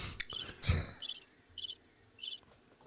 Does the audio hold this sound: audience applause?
no